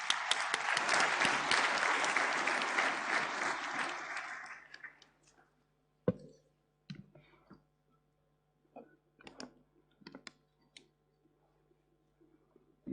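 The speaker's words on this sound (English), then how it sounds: "Can we have a great round of applause, please?" An audience at an annual function breaks into dense applause for about five seconds, fading out and leaving a few scattered claps and clicks in a quiet hall.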